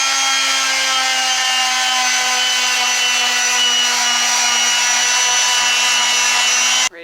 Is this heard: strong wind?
no